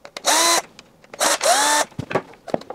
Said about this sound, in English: On this pump, we have to undo the 3 screws.